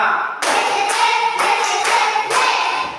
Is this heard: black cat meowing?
no